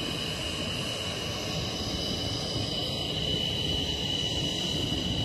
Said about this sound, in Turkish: Uçak yavaş yavaş yaklaşıyor